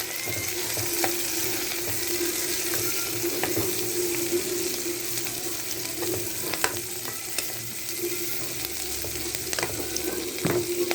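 Tomatoes frying in a hot pan, giving a steady close sizzle with scattered pops and the occasional clink of a utensil, and no one talking.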